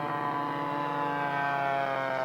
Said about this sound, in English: Two-holer spacewalker from Kona, Hawaii. Here's landing.